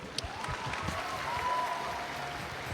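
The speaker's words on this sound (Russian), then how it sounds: "Спасибо, Елена Анатольевна, и ваши аплодисменты" Steady applause from a crowd at a Russian figure skating jumping championship fills the space, a dense wash of clapping at moderate volume with no voices standing out.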